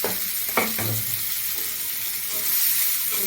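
Chopped ash gourd tossed into a hot oiled pan for a spicy katla curry sizzles steadily, with a couple of sharp clinks and scrapes of stirring near the start, close and fairly quiet.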